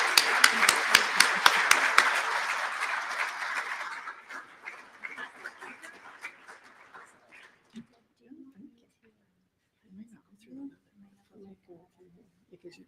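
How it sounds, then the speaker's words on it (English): A room full of people claps to congratulate Deb on her Companion of the Order of Collingwood award at a mayor's levee. The dense clapping lasts about four seconds, then thins and fades out, followed by scattered quiet talking. "all please join me in a round of applause of congratulations on Deb's Companion of the Order of"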